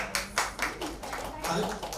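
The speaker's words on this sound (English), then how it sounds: "Applause again." Scattered applause at a short film screening, several distinct claps near the listener mixed with talking voices.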